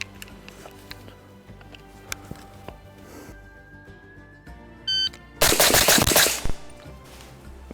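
Rifle with an 8-inch barrel in 300 Blackout firing subsonic ammunition: a quiet stretch with faint handling noise, a brief electronic beep, then a quick close string of sharp suppressed-sounding shots around one second long.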